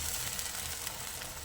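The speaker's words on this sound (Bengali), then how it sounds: "এরপর আমি এর মধ্যে দিয়ে দেবো আদা রসুন আর পেঁয়াজ একটু নাড়াচাড়া করে নেব।" Ginger, garlic and onion cook with a splash of water in a pan for chickpea bhuna while being stirred, giving a soft, even, continuous sizzle at low volume.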